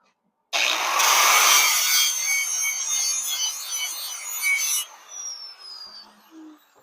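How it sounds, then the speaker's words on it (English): An angle grinder scours rust off a spot on an old steel welding table in a steady, harsh, hissing grind that lasts about four seconds, then winds down with a falling whine. "I'm gonna take the grinder and clean off a spot here"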